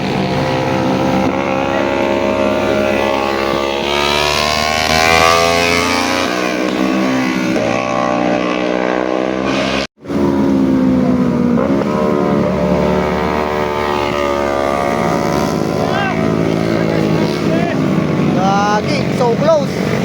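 Yamaha R3 sports bike and Yamaha Sniper racing past Honda Click and Aerox scooters on the Marilaque mountain road, engines whining loudly and steadily with rising and falling revs throughout, a voice talking over them.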